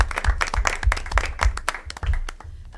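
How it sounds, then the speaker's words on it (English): A modest group at a board of education meeting claps for an absent wrestling coach, giving sparse, uneven individual claps that thin out toward the end, close by and without talk. "Can we give him a round of applause?"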